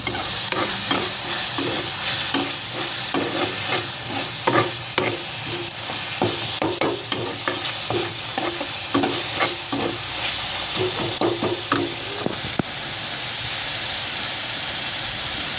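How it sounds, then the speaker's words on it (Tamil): Paneer masala gravy is sautéed in a pan with a constant close sizzle, punctuated by regular spoon scrapes and stirring knocks throughout, with no voices. "ஸோ இதை நல்லா வதக்கி விட்டுருங்க."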